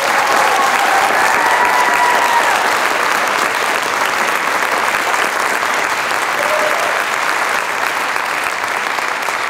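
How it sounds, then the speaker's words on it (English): A school theatre awards crowd at Lee's Summit West gives sustained, dense applause for the honored students, loud and even throughout with no pause. "we can give every one of these people who's on these slides a big round of applause"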